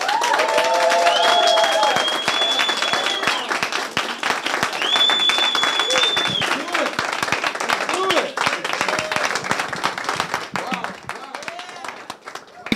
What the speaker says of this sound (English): Give Mr. James Boss I Quit Wiggins a round of applause.